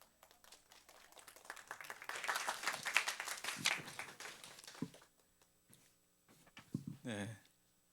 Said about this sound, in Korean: 큰 박수 해주시기 바랍니다